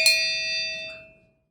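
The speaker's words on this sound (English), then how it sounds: "each session was announced by a bell" A single bell once used to announce convention sessions is struck once, giving a bright metallic ring with clear overtones that decays smoothly to silence within about a second.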